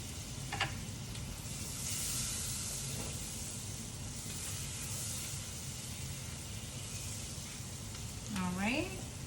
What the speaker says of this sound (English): We're gonna add the remaining 3 tablespoons of butter and let that melt.